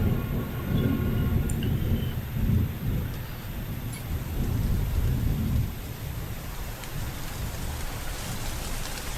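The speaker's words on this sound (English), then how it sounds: "What's with all the rain?" Steady heavy rain with rolling thunder in an animated scene, a continuous loud downpour rumbling throughout with deeper swells of thunder, and no voices.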